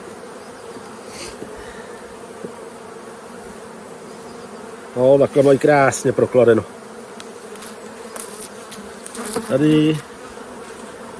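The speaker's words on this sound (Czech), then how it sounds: "Tohle jsou dobrý včely." Honeybees buzz steadily at an open hive during a check of brood and stores, a constant close drone that runs under two short bursts of nearby talk.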